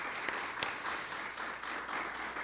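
An audience applauds steadily throughout, a dense wash of many hands clapping in a room at a presentation, with a few sharper individual claps standing out near the start.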